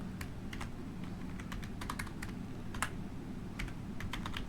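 Quick, close clicks on a computer keyboard come in irregular bursts and short pauses as JavaScript code is typed, over a steady low hum.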